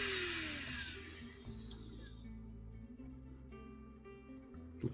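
A drill bores slowly into dense, resinous black wood for a prayer-bead link, its motor whirring steadily while the bit strains and bogs down in spurts, close and fairly quiet.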